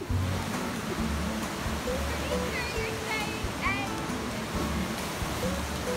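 Water pours over Niagara Falls in Ontario, Canada with a loud, steady roar that fills the whole stretch, and faint voices sit beneath the rushing noise.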